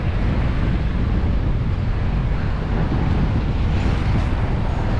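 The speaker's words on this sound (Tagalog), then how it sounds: "Pero medyo sumasalubong sa hangin." Wind roars against a cyclist riding through a barangay, a loud, steady rushing buffet that fills the whole moment without a break.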